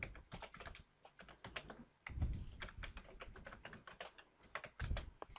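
Keys on a computer keyboard are tapped in quick, irregular bursts as a password is typed, close and fairly quiet, with a couple of heavier thumps like the space or enter key and no talking.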